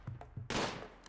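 Colonists in Rimworld fire on raiders: a few light, sharp shots, then one loud burst of gunfire that rings out and slowly fades, with no talk.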